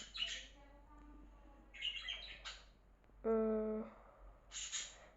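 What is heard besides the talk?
parrots squawking in background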